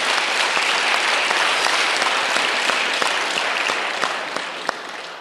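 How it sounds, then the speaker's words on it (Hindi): Thunderous applause from a large crowd at a blood donation event held for a saint's birth anniversary at a temple complex, steady and loud throughout, thinning slightly toward the end. "उन सब के लिए हम सब तालियों की गड़गड़ाहट कर रहे हैं।"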